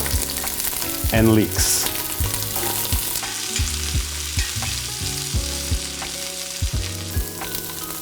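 Carrots, onions and leeks sautéing in a pan, with a loud continuous sizzle, repeated scraping stirs of a utensil and a few brief bright clinks, while a voice speaks briefly over it.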